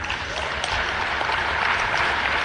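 Dense, even applause from an audience in a conference hall during a closing session, continuous clapping for a couple of seconds with no voices over it.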